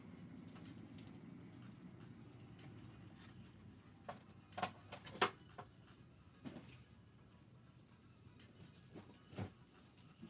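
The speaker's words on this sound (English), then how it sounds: "this is the batch of keys and carabiners that Gregory Freeman gave me when I was out" A bunch of keys and carabiners jangles in handling, with irregular bright clinks and a few sharper jingles over a steady low room rumble, close by.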